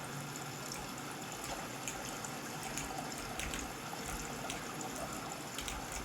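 Water flows steadily inside a cave in the survival game Sons of the Forest, a soft continuous trickling wash that is faint and unbroken, with no voices over it.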